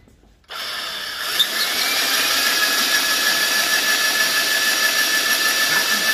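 An old German Schaerer lathe cuts a Ford F350 rear differential housing: after a quiet start the machine switches on into a loud, steady whining drone with a high metallic tone, close and continuous, without speech.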